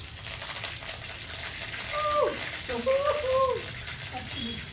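Eggs frying in oil with curry leaves, a steady broadband sizzle running throughout with a few short tonal squeaks from the pan partway through; no one speaks.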